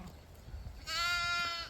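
Sheep bleating close by on a small farm: one sustained, wavering bleat of about a second that rises out of quiet background rumble.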